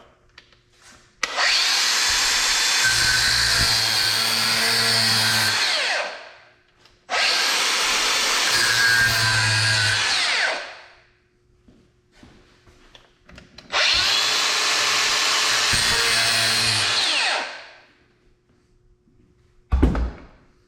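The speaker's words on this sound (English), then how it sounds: "take our grinding tool, cutoff wheel, and score the outer layer of armor all the way around" A grinding tool with a cutoff wheel scores the outer steel armor layer of a cable in three loud, sustained passes of several seconds each, with short quiet pauses between them and a brief knock at the end.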